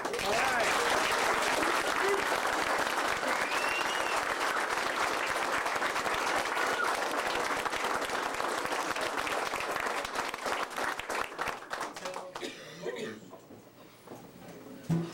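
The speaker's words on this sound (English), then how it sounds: "Let's have a round of applause for a new..." Sustained audience applause at a military unit's December 2001 Christmas party, honoring a promotion to Staff Sergeant in the 126 Medical Company; loud and steady for about twelve seconds, then thinning out into scattered claps and a few voices.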